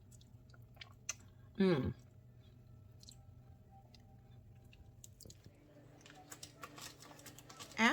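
Close, quiet chewing on a bite of roast beef dish, brief squishy bursts over a faint background hum, with a short murmur of appreciation.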